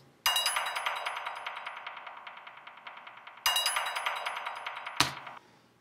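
Accent drum sounds built in Kontakt for a dance track's drop: bright, metallic clinking hits in a fast steady stream, with a restart partway and a sharp final strike before it stops.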